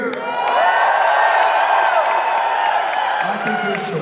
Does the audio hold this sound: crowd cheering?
yes